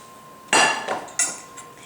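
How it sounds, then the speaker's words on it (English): Cooked oatmeal made from dehydrated foods knocked out of a metal pot into a bowl, two sharp clanking hits of pot against bowl, close and loud in a quiet room. "you're going to just take that oatmeal and you're going to dump it in a bowl"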